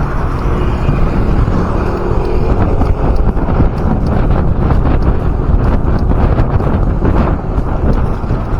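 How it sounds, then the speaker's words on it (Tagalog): Strong wind buffets the microphone of a bicycle riding along a coastal road in Mindoro, making a loud, continuous roar and rumble with no clear pauses. "Lakas na hangin."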